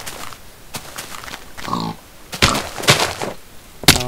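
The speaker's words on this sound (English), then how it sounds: "I thought there was another pig around here somewhere" A pig in the Minecraft video game grunts and oinks in short bursts, several calls spread across a few seconds with soft thuds and footsteps between them.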